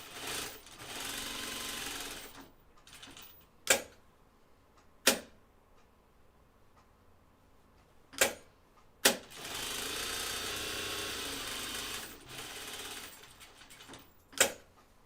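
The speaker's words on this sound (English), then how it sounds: "we're going to sew around the perimeter of our pocket" A sewing machine stitches around the perimeter of an anorak pocket in steady whirring runs, broken by short pauses and a few sharp clicks as the fabric is repositioned.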